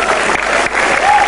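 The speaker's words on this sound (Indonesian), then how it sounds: "Gak usah tepuk tangan." Audience at an Indonesian stand-up comedy show breaking into loud, dense applause, a brief close burst of many hands clapping together.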